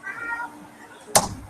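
A house cat gives a short meow near the start, followed by a sharp knock or clatter.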